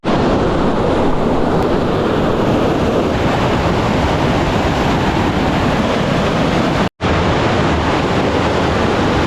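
A waterfall in remote Swedish mountains roars as a steady, loud, broadband rush of water that fills the whole stretch without any pause, with a brief dropout near the end.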